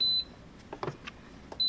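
Close, sharp electronic beeps from a Cosori pressure cooker's buttons as cook time is set, with a beep at the start and end and soft taps and clicks between them.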